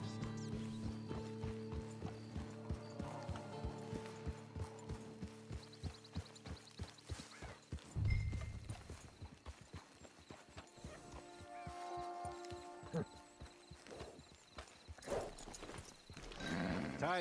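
Horse hooves clip-clop at a steady walking rhythm in the Red Dead Redemption game, the rider nearing a camp; the footfalls continue through the clip with occasional game sounds and a voice talking over them.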